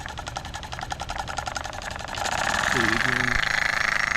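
A Stuart ST model steam engine running at full throttle gives a fast, even mechanical chatter that rises louder in the second half, with a brief pitched whine near the end.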